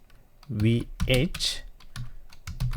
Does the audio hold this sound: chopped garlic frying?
no